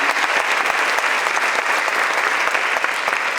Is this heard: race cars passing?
no